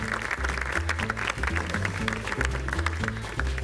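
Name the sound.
audience applause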